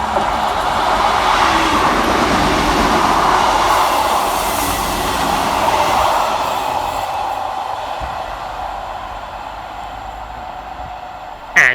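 Pair of ScotRail Class 158 diesel multiple units, coupled together, passing fast through North Queensferry station, a close, sustained roar of engines and wheels that swells and then gradually fades, with a sharp knock right at the end.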